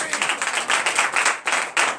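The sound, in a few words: congregation applauding during morning prayer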